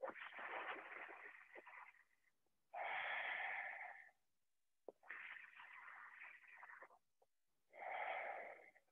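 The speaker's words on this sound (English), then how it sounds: "In through a taco-shaped tongue, out through a gentle exhale through the nostrils." Sitali breathing, drawn in through a curled tongue and let out through the nose, comes as four soft, close breaths, hissing inhales alternating with gentler exhales, separated by brief silences.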